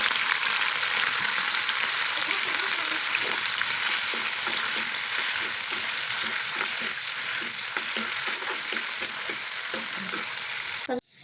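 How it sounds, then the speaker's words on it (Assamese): Paneer pieces frying lightly in a pan for an aloo matar paneer dish, a loud, constant sizzle with faint stirring scrapes, cutting off abruptly at the end. "এতিয়া মই পনীৰ কিপিচ দি দিম। বেছি ফ্ৰাই নকৰোঁ, অলপমান ফ্ৰাই কৰিম।"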